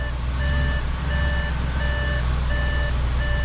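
Reversing beeps from an Audi S8 shifted into reverse, sounding as a steady, evenly spaced series of electronic tones over a constant low idle hum.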